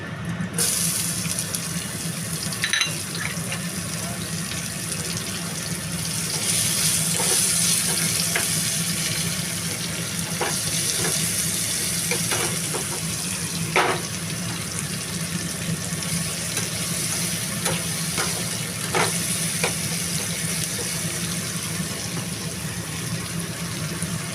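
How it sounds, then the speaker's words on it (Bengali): Onion frying in hot oil with cumin and bay leaf for a prawn curry: a continuous close sizzle with occasional stirring clicks, and no talk. "এবার তেলে দিলাম একটুখানি জিরে আর তেজপাতা এইবার পেঁয়াজটা দিয়ে দিই"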